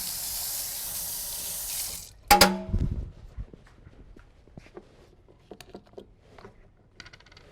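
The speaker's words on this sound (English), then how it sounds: "I got to wash this spoon real quick." Tap water runs steadily over a spoon at a kitchen sink, then cuts off. A sharp metallic clatter of the spoon follows, and faint small knocks and handling sounds continue close by.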